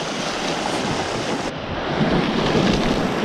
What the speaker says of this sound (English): it may be windy